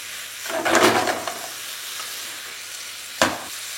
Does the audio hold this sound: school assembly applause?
no